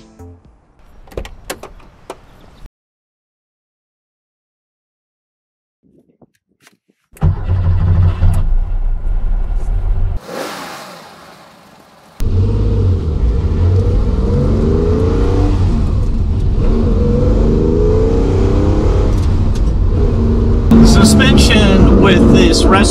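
A restored Porsche 911 built in R Gruppe style is started, its engine catching after a few quiet seconds, then it idles and drives off with a steady, loud mechanical drone close to the microphone.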